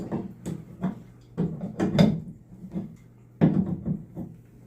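An adjustable wrench twists a Walltec bathtub tap handle during a leak repair, giving a series of irregular metallic clicks and knocks. The close, sharp taps come in small clusters, with no voices.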